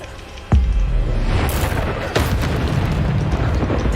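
Bombarda spell explosions in the video game Hogwarts Legacy, with two sharp booms about a second and a half apart, each followed by a loud rumbling roar that keeps going.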